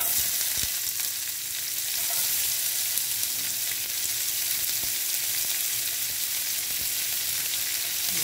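Chopped onion frying in a pan with nigella seeds gives a steady, close sizzle with a few light clicks of stirring, and no voices.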